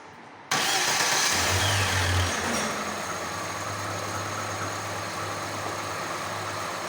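A four-door Lada Niva, just fitted with a new clutch, cranks and fires up abruptly, then settles into a steady, loud, close idle with a low engine hum.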